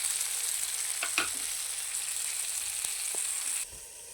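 Chicken fries in butter and garlic in a pan with a constant close sizzle, broken by a few brief scraping stir strokes, before the hiss drops slightly at the end.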